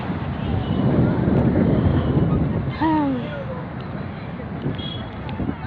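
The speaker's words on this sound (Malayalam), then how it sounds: "ഭയങ്കര തിരയുണ്ട് ഇഷ്ടംപോലെ വലിയ തിര ഭയങ്കര കാറ്റ്" Strong, steady wind roars across the microphone at Kollam beach amid big waves, in a broad rushing wash, with a short burst of voice cutting through near the middle.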